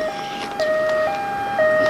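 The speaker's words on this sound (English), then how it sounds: "You need an ambulance? Of course you do." An ambulance siren in the video game GTA III wails in a steady two-tone alternation, loud and near, with traffic and city noise underneath.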